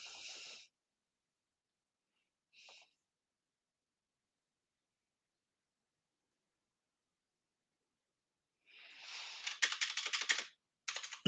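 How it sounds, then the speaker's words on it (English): Keys on an Amstrad computer keyboard are pressed with a sharp clack, then a second lighter tap, and after a long silence comes a flurry of quick close-up keystrokes. "insert disk, press the spacebar twice"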